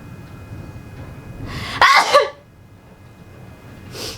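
One short, explosive sneeze bursts out after a stretch of quiet room noise, followed by a faint breathy sound.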